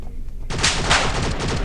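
A mine explosion in the multiplayer shooter game Infinity Ops erupts after a brief quiet moment, a loud, dense crackling burst that sustains like rapid gunfire and fills the rest of the moment.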